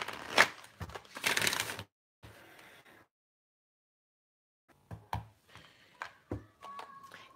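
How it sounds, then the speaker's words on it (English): Soft riffling and tapping of tarot cards being shuffled in short bursts, separated by a pause of near silence. "Let me shuffle this up."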